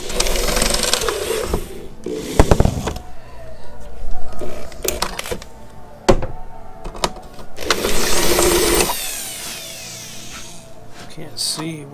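A power drill bores a hole in the tailgate of a vintage 1952 Greyhound PD 4103 Silverside bus, with several short whirring bursts separated by pauses and someone talking in between.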